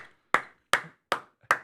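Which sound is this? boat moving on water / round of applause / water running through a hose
round of applause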